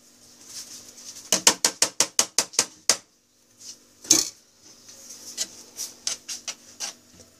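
Metal ladle scraping and tapping against a cake pan while spreading layer-cake batter, a quick run of about eight sharp, evenly spaced clinks, then a pause, a louder knock and further scattered scrapes, close and fairly clear.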